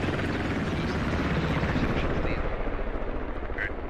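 A military helicopter takes incoming heavy machine-gun fire in the tactical shooter Squad, its dense rotor roar and gunfire filling the mix continuously. Voices talk over it.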